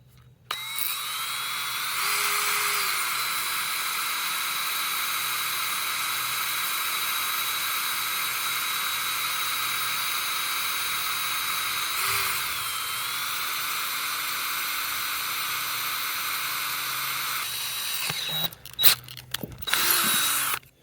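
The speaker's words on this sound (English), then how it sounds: "So we have a drill bit, drill slow." A power drill whirs steadily at close range for most of the clip, drilling slowly into a stripped pin, its pitch briefly dipping mid-run, then stopping and starting in short bursts at the end.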